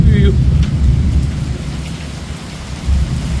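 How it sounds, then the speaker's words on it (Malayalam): Heavy rain pours down in a strong storm, a loud, dense and steady wash of noise with gusty swells and a rumble of thunder; there is no talk. "മഴ തകർത്തു കേട്ടോ ഭയങ്കര കാറ്റ്"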